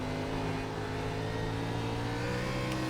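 Fixed-setup NASCAR Xfinity race car engine in the iRacing simulator at Nashville Fairgrounds, droning steadily and loudly from onboard with a constant harmonic tone, held under partial to full throttle with no pauses.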